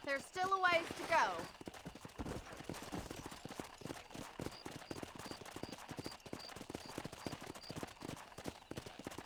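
A horse in the Red Dead Redemption video game is ridden at a steady gait, giving rapid rhythmic hoof clip-clops that run throughout under low ambience, after a short burst of speech at the start.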